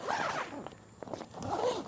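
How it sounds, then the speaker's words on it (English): A plastic zipper on a weatherproof rooftop cargo carrier bag is drawn shut in two quick, close ripping strokes separated by a brief pause, with no talk over it. "cover it back up, we'll zip it back down"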